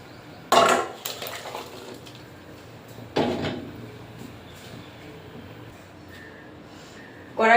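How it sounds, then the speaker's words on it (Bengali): A wok (kadai) is handled in a home kitchen: a couple of loud metallic clanks and knocks as it is washed and set on the stove, separated by quieter rattling, with another knock at the end. "এবারে নাম করে কড়াটা ধুয়ে বসিয়ে দেবো"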